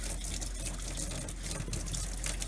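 Water from a backup supply pipe pours steadily onto the ground, a continuous close splashing gush with no break and no voices.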